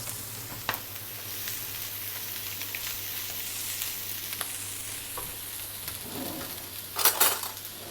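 Cooked rice stir-fried with marinated pork in a pan for jasmine fried rice, a steady close sizzle with scraping spatula strokes and a burst of clattering near the end.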